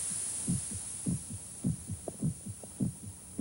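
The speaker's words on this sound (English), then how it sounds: "The sound of the heart pounding against the ribs." A human heart pounds against the ribs in a slow, regular double thump, low and throbbing under a faint steady hum, with no voices.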